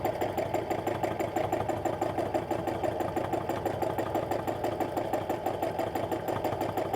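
A sewing machine runs continuously while stitching a free motion quilting stipple meander, its steady rapid needle hum holding an even rhythm throughout, close and unbroken with no talk.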